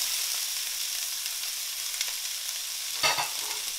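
Onions, celery and carrot fry in a hot pot with a steady, close sizzle and hiss that swells into a brief louder burst of crackle as more goes in near the end.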